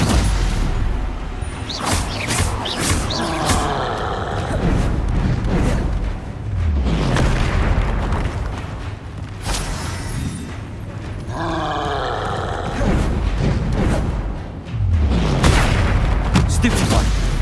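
Incendio and Confringo spell blasts thunder in a Hogwarts Legacy battle, a dense, loud barrage of booming impacts and roaring bursts in waves with brief dips, with voices mixed into the chaos.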